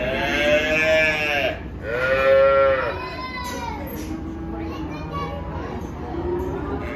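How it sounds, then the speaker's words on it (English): Calves and cattle bellow and moo repeatedly at a busy livestock sale while trucks and trailers unload, several loud overlapping calls over a constant hubbub of activity, with voices nearby. "there's a ton of trucks and trailers here unloading cattle"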